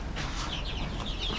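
Chickens cluck in a short, steady burst of several overlapping calls, close by on a farm, with no one talking over them.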